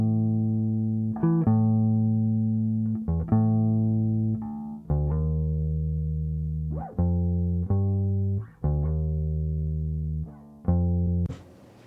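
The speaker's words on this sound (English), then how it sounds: "Let's check out the bass guitar." Bass guitar recording mixed on a Soundcraft Sapphyre console: a sequence of sustained, plucked low notes, each attack ringing out for about a second before the next, steady and prominent with no voices.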